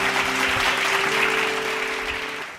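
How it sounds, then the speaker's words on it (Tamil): A church congregation claps together during a Sunday service, a dense, steady wash of applause with a held keyboard or organ tone underneath that trails off near the end. "நல்லா கைத்தட்டுங்க ஒரு ராமன்"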